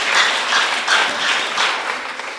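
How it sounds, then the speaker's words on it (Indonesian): A church congregation in Jakarta claps for God during a sermon, a brief burst of dense applause rising and falling in a few swells. "Tepuk tangan lagi bagi Tuhan kita"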